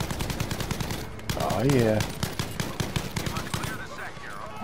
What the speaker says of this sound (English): Nice little gun turret on here.